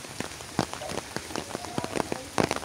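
Rain patters onto leaves in a village, a close, irregular scatter of sharp drop impacts over a soft steady wash.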